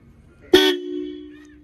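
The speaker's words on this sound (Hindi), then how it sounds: "और अब इसके आपको हॉर्न सुनाता हूँ।" Horn of a modified Yamaha RX 100 motorcycle gives one loud, close, steady honk lasting over a second, then fades out, with no talk over it.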